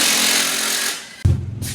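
A Bauer 20 volt cordless impact drill whirs loudly up close, pulling a wheel off a Super Duty front end. The steady high whine fades out, then a short lower rattling burst of the tool follows.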